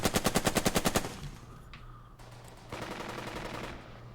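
Gunfire in the WWII strategy game Burden of Command, a rapid burst of about ten evenly spaced machine-gun shots at the start, then fading reverberation and quieter background game ambience.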